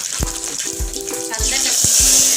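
Mustard seeds and cumin hit hot oil in a cooker, a bright hiss that swells louder toward the end beneath a rhythmic thumping music track.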